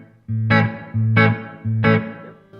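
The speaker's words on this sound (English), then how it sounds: "Let's start off with the room reverb." Electric guitar through a Strymon BigSky pedal on its room reverb setting, three strummed chords each ringing out and decaying into a short roomy tail, loud and alone.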